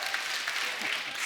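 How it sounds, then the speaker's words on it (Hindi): Studio audience at a TV comedy show giving steady applause, a short burst of many hands clapping at moderate loudness with faint voices underneath. "जोरदार ताली"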